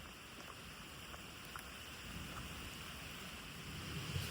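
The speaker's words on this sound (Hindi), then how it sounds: "आप शोर सुन सकते हैं बारिश का।" Heavy rain falls in a forest on a hillside hiking trail near Islamabad, making a steady, soft, even hiss that stays faint throughout. No voices can be heard.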